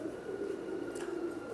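Teddy pigeons cooing softly, a low continuous coo lasting a moment, faint and close, with no talk.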